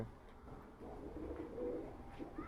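Pigeons, including a white one, coo softly in a loft, a low muffled burbling that rises and falls over a faint background.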